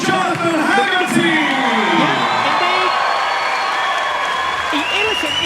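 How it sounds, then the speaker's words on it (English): Arena crowd applauding and cheering after a Muay Thai fight, a loud continuous roar of clapping, whoops and shouts, with an announcer's voice rising over the noise. "ladies and gentlemen, a massive round of applause from Jonathan Haggerty"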